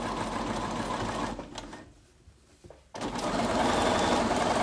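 A sewing machine stitches a quilt block, giving a steady, close mechanical whir that stops briefly for about a second and a half, then resumes at full speed.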